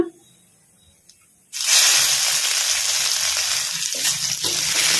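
Crushed garlic dropped into hot oil already crackling with mustard seeds and cumin, a sudden loud burst of sizzling after a quiet moment, then steady close frying hiss with small pops.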